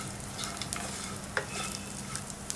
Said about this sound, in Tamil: இது கொஞ்ச நேரம் வதக்கிட்டே இருக்கலாம்.